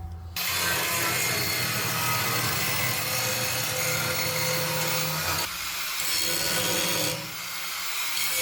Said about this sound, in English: I'm gonna just try to prepare the surface by grinding a little bit along the bottom